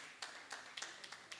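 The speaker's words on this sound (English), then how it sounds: "Please, a round of applause for Zainab." A small audience at a women's investment accelerator demo day claps for a presenter, with sparse, scattered claps coming in separate bursts at moderate distance.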